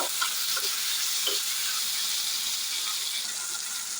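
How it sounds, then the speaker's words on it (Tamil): Tomato pieces sauté in an oil-filled pan for pirandai puli kulambu, giving a steady, close sizzle with faint stirring scrapes throughout. "நான் ஒரு சின்ன தக்காளி 2 கட் பண்ணி ஆட் பண்ணிக்கிறேன். நல்லா வதங்கட்டுது."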